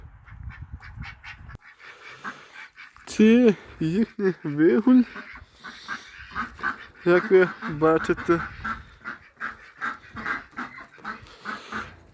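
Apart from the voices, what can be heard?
ducks and geese in their yard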